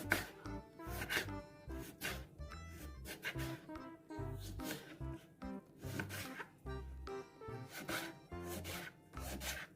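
A lemon sliced thinly with a knife on a board: quiet, rhythmic cutting strokes with soft scraping rubs, repeating steadily at close range.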